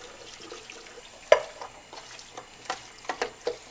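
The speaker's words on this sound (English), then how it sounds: "I'm also gonna do some dishes in the sink." Dishes are washed in a sink with running water at a camping stop, with a soft water wash under scattered sharp clinks and knocks of crockery, one louder clank standing out.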